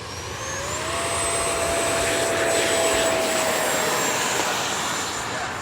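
An E-flite F-18 electric model jet's 80mm ducted fan, one fan feeding two exhausts, whines loudly and steadily, a high rising tone over a broad rushing roar that swells and holds close by.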